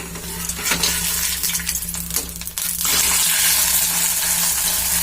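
A paratha in a hot pan crackles with scattered clicks and scrapes as it is flipped, then settles into a loud, even sizzle up close with no talking.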